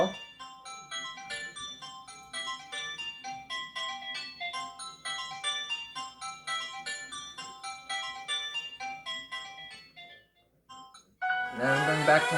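Samsung Galaxy Synth Bell ringtone rings out as a steady rhythmic pattern of bright bell-like synth tones, looping for about ten seconds before stopping, then a voice starts talking at the end.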